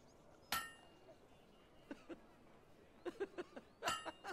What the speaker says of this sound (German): Schöne Schmiedearbeit